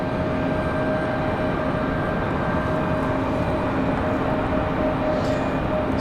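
Airliner rotating for takeoff at night at Raleigh-Durham airport: a loud, continuous jet engine roar with steady tonal whine, distant and unbroken throughout.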